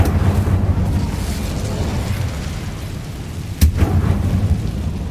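Incendio fire spell cast in Hogwarts Legacy: a steady low rumbling roar throughout, with one sharp burst near the end followed by continued fiery rumble.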